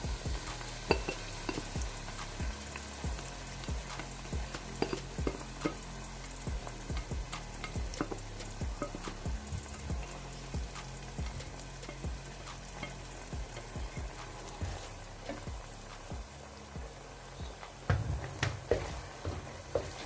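Mustard greens for Punjabi sarson ka saag tumble into a hot pan and get stirred, a steady sizzle broken by repeated scraping and clattering strokes of the spoon, close and continuous with no talking.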